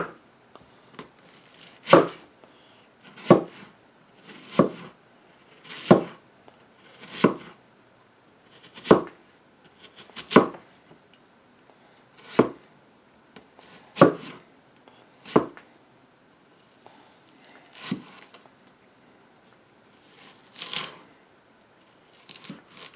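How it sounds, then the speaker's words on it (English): A knife chops half an onion into strips on a board for chicken riggies, about fifteen crisp, evenly spaced cuts heard up close with nothing else in the background. "And that's about how you want to cut the onion. Just in strips."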